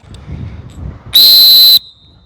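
A single sharp, piercing coach's whistle blast, very loud at about 114 decibels and steady for about half a second, following some quiet background sounds.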